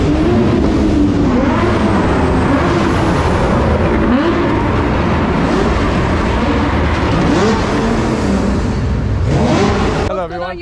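Drift car engines revving hard during qualifying at the Drift Pro Championship at Brands Hatch, a loud continuous roar with rising and falling pitch sweeps as cars accelerate past, filling the whole stretch.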